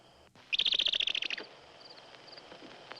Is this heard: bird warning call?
yes